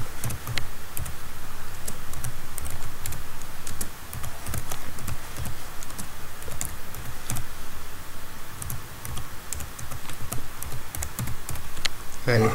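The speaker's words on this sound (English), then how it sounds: "type the final command." Computer keyboard keys clatter in quick irregular bursts as a command is typed on a Windows 8 machine, close and crisp, while a voice talks over part of it.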